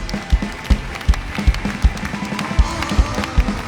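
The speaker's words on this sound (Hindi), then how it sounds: "सब जोर से तालियों के साथ परमेश्वर का थैंक्स करें चर्च" A church congregation claps together in thanks to God during a testimony meeting, with steady rhythmic beats roughly every 0.4 seconds over a murmuring, reverberant hall.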